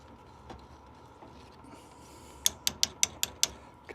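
A hand reaming tool works inside a pipe end as an HVAC tech deburrs it, giving a quick run of about six sharp, close ratcheting clicks over quiet background hiss, with fainter clicks before.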